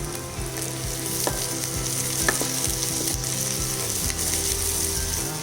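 Onions fry with green chillies and cashews in oil for shahi egg korma, making a close, steady sizzle. A spoon scrapes and clicks against the pan at a regular beat as the mixture is stirred.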